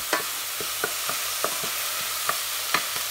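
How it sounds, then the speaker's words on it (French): Peppers and onions with spices sweating in a pan for salsa sauce, a constant soft sizzle broken by evenly spaced spoon taps and scrapes, close and with no one talking. "on a bien fait transpirer les poivrons, les oignons"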